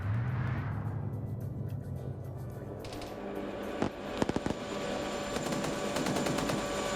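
Gunfire in a PvP shooter game, a burst of several sharp shots near the middle followed by scattered cracks, over a steady droning background of engine or vehicle noise.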